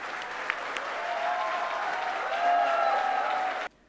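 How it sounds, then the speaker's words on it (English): A crowd applauds steadily for Shah Rukh Khan at the IIMBUE 2015 inauguration, dense clapping swelling slightly toward the end before cutting off abruptly, with faint cheering mixed in. "join me in giving Shah Rukh a resounding round of applause"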